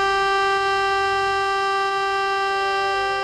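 A civil defense siren sounds for a minute of silence at an earthquake memorial walk, a loud, sustained, steady wail with no voices over it.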